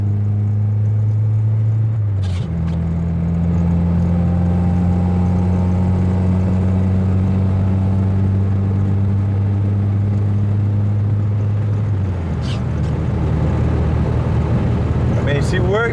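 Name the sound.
Honda F20B car engine running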